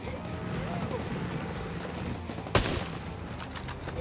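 A single sharp gunshot cracks out during a video game firefight, loud and abrupt at about 2.5 seconds, followed by a few fainter pops over a steady rumble of engine and battle noise.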